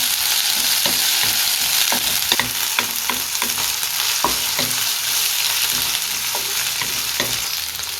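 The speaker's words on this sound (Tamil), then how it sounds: "இப்போ இஞ்சி பூண்டில் பச்சை வாசனை போகிற அளவுக்கு நல்லா வதக்கி விட்டுடலாம்" Ginger garlic paste sautés in hot oil for beef chukka, a steady loud sizzle with repeated scraping and stirring knocks of a spoon against the pan, no voices.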